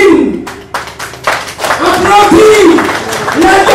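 A crowd at a 2014 Alliance Lepep election rally in Plaine-Verte, Mauritius, claps and cheers in loud bursts, mixed with an amplified voice and crowd noise.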